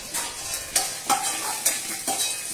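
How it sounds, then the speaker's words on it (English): Cashews and almonds fry in a pan, a soft continuous sizzle broken by several scraping stirs of a spoon at irregular intervals, close and fairly quiet with no talk. "I'm frying this kaju and"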